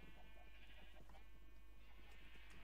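Sheep bleat repeatedly on a Minecraft sheep farm over a steady electronic hum and music-like drone, with soft game-style ambience throughout.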